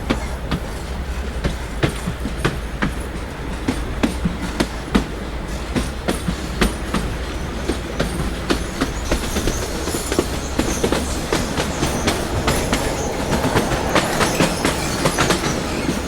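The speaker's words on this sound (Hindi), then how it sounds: "यहाँ से निकलने के बाद हमारी ट्रेन सीधा जाके रुकेगी हमारा जो डेस्टिनेशन है" A narrow gauge train on the Bilimora to Waghai line runs with steady rumbling and rhythmic clickety-clack of wheels on rail joints, heard continuously from aboard, with occasional squeals.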